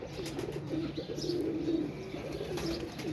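A pigeon coos close by in a soft, repeated throaty warble, with faint chirps and light rustling in the background.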